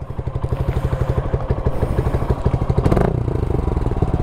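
A warm motorcycle idles through an Akrapovic exhaust fitted with its silencer and dB killer. Loud, close, rapid, even exhaust pulses are broken by a short throttle blip near the end before the idle settles again.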